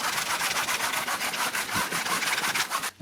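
Thin packraft fabric scuffed by hand with rapid, steady rubbing strokes, close and fairly loud, continuing for about three seconds before a brief pause at the end.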